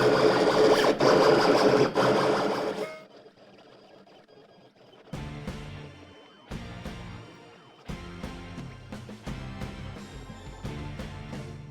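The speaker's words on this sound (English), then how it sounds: "And it's gonna ask you proceed with cutting." A USCutter Laserpoint 3 cutting machine cuts multicolor vinyl decals. A loud burst is followed by a quieter pause, then repeated mechanical whirring and stepping passes at close range.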